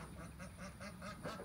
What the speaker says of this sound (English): the 5 other ducks, the white ones, which are over there right now playing in the little swamp